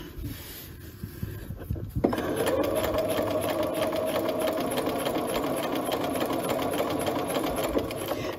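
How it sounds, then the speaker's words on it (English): A sewing machine runs steadily while stitching a dart on a wrap skirt. A brief start is followed by a continuous close, even whir that holds for several seconds, with faint handling sounds at the start. "just stitch down that line for my dart"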